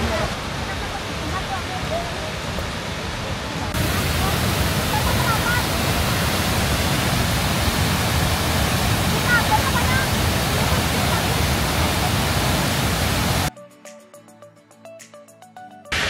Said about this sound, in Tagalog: Ito na po tayo sa Falls 1. Sobrang laki.